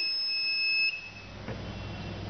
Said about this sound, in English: you can hear the buzzer sound, indicating that high temperature